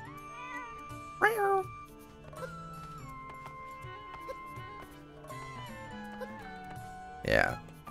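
A cat meows in the video game Zelda: Echoes of Wisdom, with short tonal calls heard against game music and ambience, plus a couple of louder bursts.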